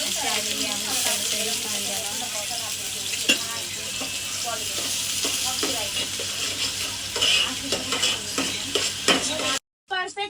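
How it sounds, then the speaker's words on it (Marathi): Chopped onion frying in a pan, with a steady loud sizzle and repeated scraping strokes of a spoon stirring it, close up with no talk, cutting off abruptly near the end. "तर आपण आधी कांदा टाकणार."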